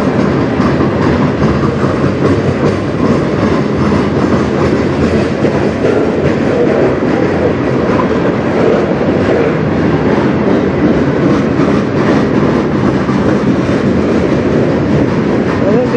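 CN freight train of hoppers and boxcars rolling past close by, a loud, steady roar with rhythmic clickety-clack of wheels over rail joints, continuous for the whole stretch.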